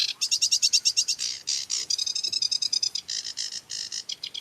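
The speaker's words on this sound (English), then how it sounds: "this is the sedge warbler" A sedge warbler sings a rapid, chattering song of varied trills and scratchy repeated notes, close and clear with no talking.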